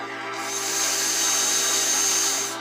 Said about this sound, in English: I have chosen a drill bit that's just a tad bit smaller than the nails I'll be using.